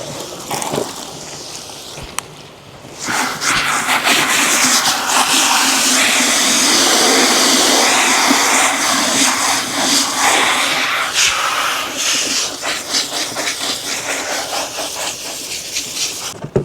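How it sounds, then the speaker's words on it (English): Leaf blower clearing a fertilized sidewalk in winter, with a loud, close, sustained roaring hiss that swells after a short pause and holds steady before tapering slightly. "Now we need to wash out our fertilizer and blow off our sidewalk really quick."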